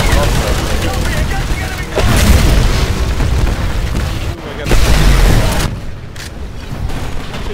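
Rapid-fire weapon in the Titanfall video game, loud and continuous with dense bursts of gunfire and heavy booms that surge and ease, backed by muffled game noise and some talking.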